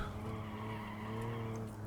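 An old car slides with its back end stepped out under throttle, a steady, loud engine drone and tyre skid running unbroken for the whole two seconds, with no talk.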